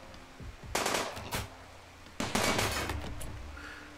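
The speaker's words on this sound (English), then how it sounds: "Let's let the turrets do the job." Defensive turrets in the RimWorld video game open fire in two rapid automatic bursts, each a dense rattle of shots lasting about half a second to a second, separated by a brief pause, with no talking.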